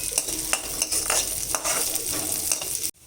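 Peanuts and roasted gram dal are stirred in a hot pan with a spoon, making steady rhythmic scraping strokes over a dry sizzling crackle, close up and with no one talking.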